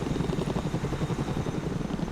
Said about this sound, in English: even though the Chinook does have this distinctive tandem rotor setup